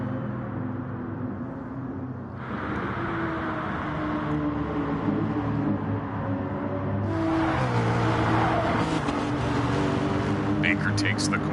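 Race cars lap the Willow Springs track in Gran Turismo Sport during an endurance race, their engines droning steadily and swelling as they pass, under continuous commentary.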